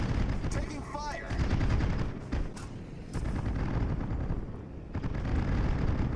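Naval gunfire and explosions in the World of Warships video game, dense rumbling booms and rapid shot bursts running continuously at high level with a faint voice now and then.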